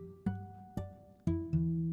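Bell-like guitar harmonics from a free Spitfire Labs software instrument, four plucked notes at even spacing, each ringing on with a steady sustained tone, with no voices.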